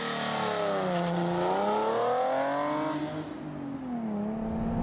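A Nissan 370Z sports car engine revs up hard, pitch climbing, then drops off and builds again, loud and close with no talking.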